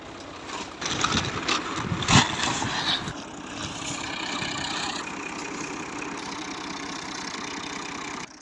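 A tractor engine runs steadily during wheat farming work, a constant mid-pitched mechanical drone with some louder rattling bursts early on, close by and with no one talking.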